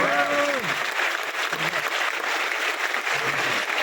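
Steady audience applause for parents at a college talk, broad and continuous, with a speaking voice briefly heard over it at the start and again in short bursts.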